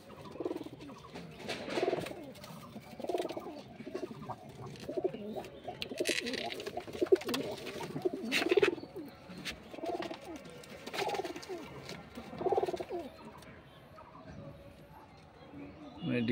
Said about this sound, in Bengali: এই একটা পায়রা